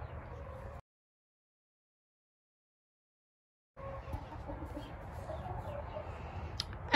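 Chickens cluck softly in a quiet outdoor coop, with a few seconds of complete silence breaking up the low background of coop sounds.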